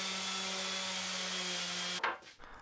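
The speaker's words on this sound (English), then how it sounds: "I give it a sand just so it's easier to get to everything" A power sander works over a pallet wood garden table frame in a steady, loud droning whir, then cuts off abruptly and leaves brief scraping and handling noises.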